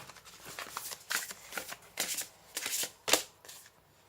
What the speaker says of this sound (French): Ça, c'est des cartes qui font je ne sais pas combien de grammes d'épaisseur. Mais alors, à tenir et à mélanger